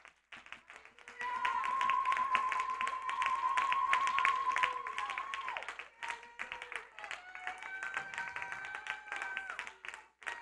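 A church congregation claps and cheers to acclaim the Lord, steady applause with shouting voices and a sustained high cry over it, loud and continuing for several seconds.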